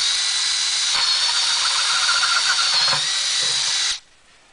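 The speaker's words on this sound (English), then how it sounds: "I'll go ahead and drill that out real quick." A drill with a 1¼ inch spade bit bores through a plastic bucket in one steady, loud whirring run of about four seconds, close by, then stops abruptly.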